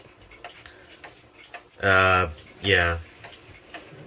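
Ticking of a Seth Thomas 30-hour Ogee pendulum clock, a faint steady tick-tock running quietly under a single spoken word.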